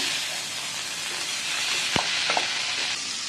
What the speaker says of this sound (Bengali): এবার খানিকক্ষণ কষবো এটা